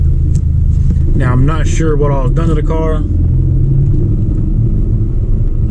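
A 2016 Hyundai Veloster Turbo fitted with a cone filter intake gives a steady, loud, low engine rumble from inside the car, running under a voice for the whole stretch.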